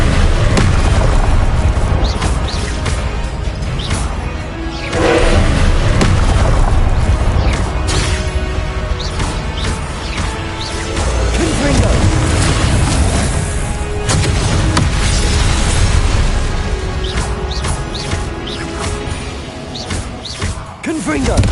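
Repeated Confringo blasting-spell explosions from a video game boom and crackle up close, a dense, continuous barrage of bursts and rumbling impacts.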